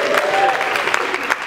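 A conference audience at an SEO event gives a dense burst of clapping with some cheering. It is loud and close and fills the whole moment.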